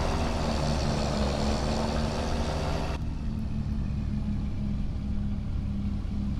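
Loud forklift engine in a forestry video game, a steady low rumbling drone that runs throughout, with the upper noise dropping away halfway through as the motor settles.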